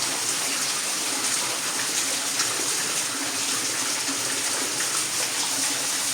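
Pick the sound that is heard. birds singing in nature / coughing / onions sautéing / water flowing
water flowing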